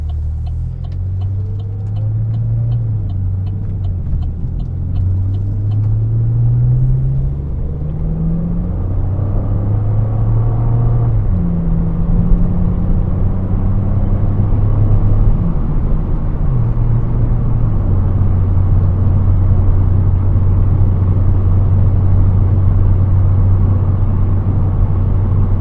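A steady engine drone from inside a moving car, pitch shifting as it changes gears, with a continuous low road rumble.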